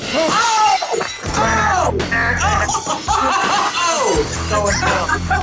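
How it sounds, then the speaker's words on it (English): Glass shattering as a wrestling entrance sound effect, a loud crash repeated over blaring music and crowd noise that fill the whole stretch. "I don't think there's anything better than letting that glass break"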